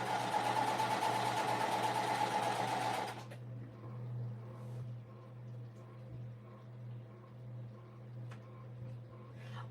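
A sewing machine stitches fold-over elastic on a bag project, running loud and steady for about three seconds and then stopping, leaving a low hum and faint room sounds.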